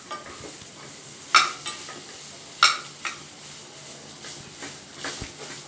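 Cashew nuts roasting in ghee in a pan, a soft sizzle broken by a few sharp spoon clinks against the metal as they are stirred.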